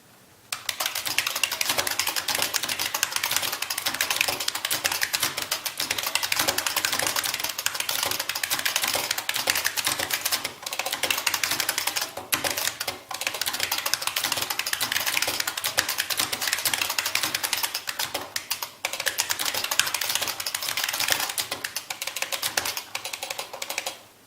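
Continuous fast typing on an IBM Model F keyboard: dense, even clattering keystrokes held at a steady level throughout, close and alone with no talking.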